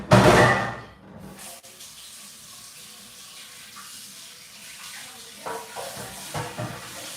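A wok is rinsed under a running kitchen tap after cooking, with a loud burst of splashing water at first, then a steady softer stream and occasional clatter of the pan in the sink.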